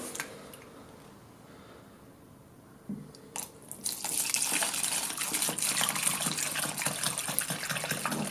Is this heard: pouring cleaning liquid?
yes